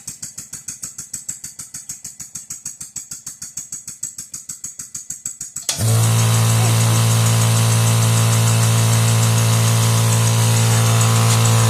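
Rapid rhythmic chuffing of a small steam engine gives way to a loud, steady motor drone and hum of a Vevor 2024 oil-free air compressor running close by.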